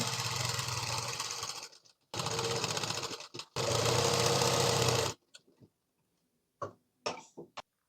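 A sewing machine runs in three steady bursts of fast mechanical whirring while stitching churidar lining, then stops, followed by a few faint handling clicks and taps close by.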